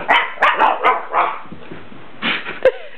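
A puppy barks and yips in a quick burst of several high, close barks. A short lull follows, then a few more yelps and a whimper.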